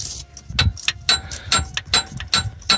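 A ratchet wrench undoing a starter motor bolt on a Honda CR-V, heard as quick bursts of clicking ratchet strokes, about six or seven in rhythmic succession, close and crisp.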